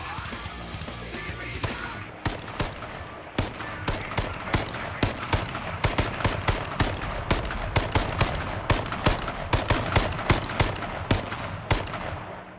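Loud, rapid gunfire from the H1Z1 Battle Royale video game, with dense repeated bursts of shots cracking steadily through the whole stretch and no talk over them.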